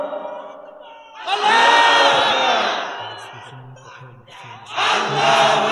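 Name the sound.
crowd shouting takbir at sermon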